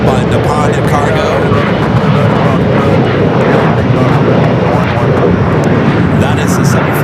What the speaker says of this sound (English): Flight 202, the second 777-300ER flight coming in from Paris on the day.